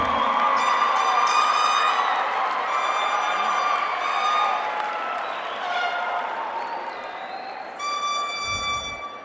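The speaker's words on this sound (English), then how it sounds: "I want you to give them a round of applause for getting you here today." Graduation crowd applauds and cheers, with sustained clapping, whoops and children's shouts, plus shrill whistles or noisemakers rising near the end.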